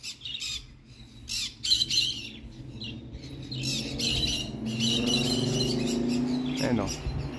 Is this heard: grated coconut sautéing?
no